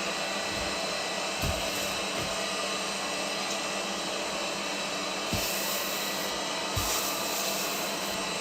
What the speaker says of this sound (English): Vacuum's still making its rounds.